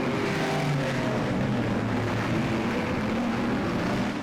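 Stock cars racing on a New Zealand track, a steady loud roar of several engines droning together without pause, with no voices over it.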